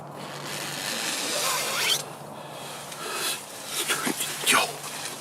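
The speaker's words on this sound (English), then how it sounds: "Startled, he unzipped the tent and scanned the darkness." A tent zipper drawn open in several quick rasping pulls, close and fairly loud against a quiet night background, with faint breathy whispering.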